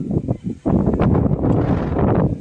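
Steady wind buffets the microphone with a low, rumbling roar that gusts and stays loud throughout, with no one speaking.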